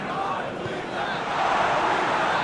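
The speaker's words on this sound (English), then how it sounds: "the crowd aren't happy" Stadium crowd in a PES football game at a USA versus Brazil World Cup final, a dense continuous roar of voices that swells slightly toward the end.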